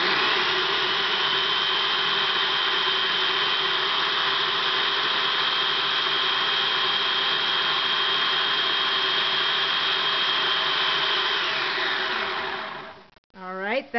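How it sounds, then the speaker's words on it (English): A food processor pureeing prickly pears whirs loudly and steadily for a long stretch, then shuts off and winds down with a falling whine. "we're going to put them in a food processor"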